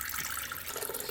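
Filtered water pours from a Brita pitcher onto a seasoned venison roast, a steady close splashing trickle running throughout the short moment.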